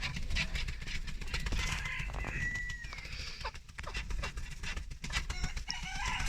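Chickens and Chinese fowl in a coop cluck and call close by in a busy, continuous flutter of squawks, with scattered louder cries.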